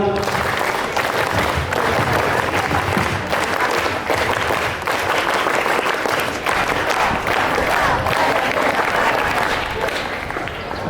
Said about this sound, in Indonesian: mari kita tepuk pramuka 3 kali